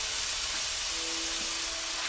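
Pancake hamburgers sizzle in a pan with a steady, hissing crackle of frying, fairly faint and continuous throughout the short stretch.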